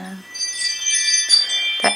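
A front door opens and a bell chime on it gives a light metallic jingle and tinkle, heard faintly in the background of a room with some soft movement.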